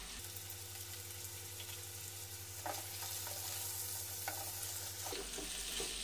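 Raisins and salt fry in a pan, giving a continuous close hiss with a few soft stirring scrapes and no voices.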